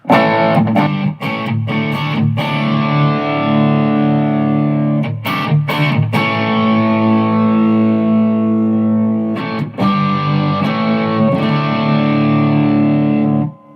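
Electric guitar played through a Headrush Gigboard's Black Op distortion, modelled on a ProCo Rat, into a real amp: thick, gritty sustained chords with sharp muted strums between held notes, loud and close.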